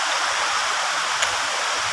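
A waterfall at Munjuluru roars in a steady, dense wash of rushing water, close and unbroken, with no voices.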